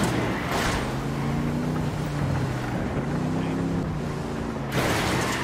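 Vehicle engine revving hard during a chase in Tom Clancy's Wildlands, a steady droning roar with rising and falling tones over wind-like rush, loud and close with muffled voices beneath.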